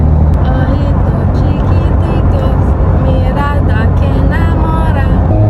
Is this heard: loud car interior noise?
yes